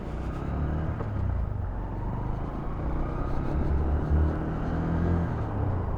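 A motorcycle ridden on a public road, its steady engine drone and low rumble sitting under wind noise throughout, with no talking.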